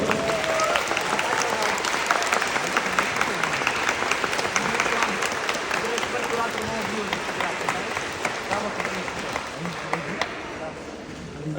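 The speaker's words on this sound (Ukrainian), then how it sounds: "Ваші оплески Олександр Сапронов!" Dense, steady applause from an audience welcoming a guest speaker onto a stage at a school event, filling about ten seconds before thinning slightly at the end, with some voices mixed in.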